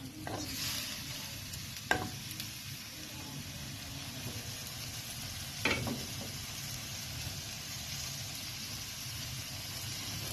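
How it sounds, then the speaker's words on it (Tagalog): Squid adobo sautéing with onion, ginger and garlic, a continuous bright sizzle with a few distinct spatula scrapes and clanks against the pan. "Sinangkutsa lang natin yung adobong pusit sa sibuyas, luya, tsaka bawang."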